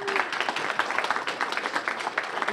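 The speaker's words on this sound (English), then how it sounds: "Give yourselves a round of applause." Dense, steady applause from an audience at a Fred Korematsu Day celebration, a crowd clapping continuously at moderate loudness, with no voices over it.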